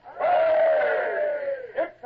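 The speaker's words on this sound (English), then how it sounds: "And 3 cheers for the King." A crowd of sailors gives a loud, sustained group "Hooray!" for the King, one long rising roar of many voices held for well over a second, then the start of the next call.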